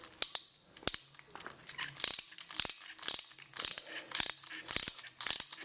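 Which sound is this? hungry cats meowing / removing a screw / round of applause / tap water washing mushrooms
removing a screw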